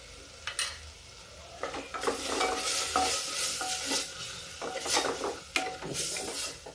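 Fennel seeds drop into hot oil and are stirred for gobhi palak, a steady frying sizzle broken by repeated scrapes and clinks of a spoon against the pan, close and fairly loud with no talking.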